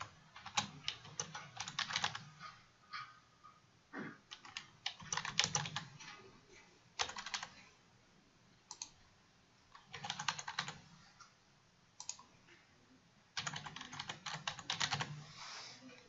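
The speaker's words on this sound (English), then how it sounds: "In this blank, you type in your question." Someone types a multiple-choice quiz question on a computer keyboard, giving bursts of rapid, close key clicks separated by short pauses, with no voices.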